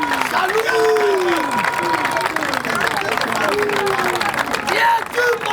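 A large crowd cheers, claps and whistles in acclaim of the Lord Jesus Christ, with rising and falling whistles over a steady, close roar of applause and voices.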